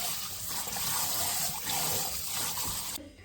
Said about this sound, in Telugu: ఇప్పుడు వాటర్ పట్టేసిన, వాటర్ మొత్తం ఒకసారి తీసేద్దాం.